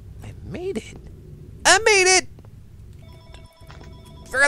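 A telephone rings in the horror video game SCP: Containment Breach, a clear electronic trilling ring with repeated bursts that swell loud mid-clip, alongside other tonal game sounds and a brief near-silent gap before the ringing resumes.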